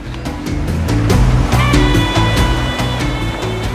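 Waves roll and break onto a wide beach at Diveagar on the Konkan coast in a steady, loud wash, with a low rumble underneath and no voices.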